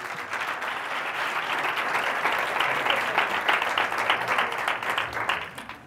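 A business talk audience breaks into sustained applause, a dense, continuous patter of many hands that swells slightly toward the middle and holds loud and close before easing at the end, with no speech.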